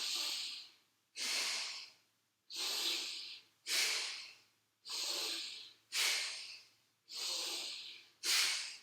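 Forceful bhastrika yoga breathing: a run of eight strong, rhythmic nasal breaths, each a loud hissing rush of air about a second long, separated by short silent gaps, close and alone.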